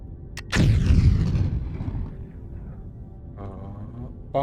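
A deep, rumbling bomb explosion in a factory-building video game bursts loudly and rolls on with a long low rumble, followed by fainter crackling blasts near the end.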